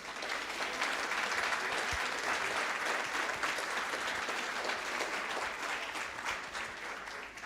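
Round of applause at a school board meeting honoring award-winning students, sustained even clapping from a roomful of people, fairly faint and steady throughout.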